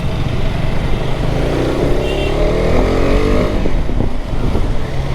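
A 2025 KTM Adventure 250 motorcycle rides through city traffic, its engine droning steadily with a rising rev partway through, close and loud over wind noise.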